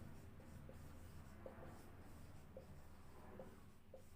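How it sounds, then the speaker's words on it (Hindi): Chalk or marker writing on a board in a lecture room, with soft scratchy strokes and brief taps repeating irregularly over a steady low background hum, fairly faint and without talk. "तो मैं लिख देता हूं"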